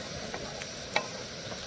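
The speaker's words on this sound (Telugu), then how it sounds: "మంచిగా చిన్న మంట మీద గరిటెతో కలుపుతూ ఫ్రై చేసుకోవాలి." A turmeric tempering fries gently over a low flame for poha, giving a soft, faint sizzle with a few light scrapes as a ladle stirs it.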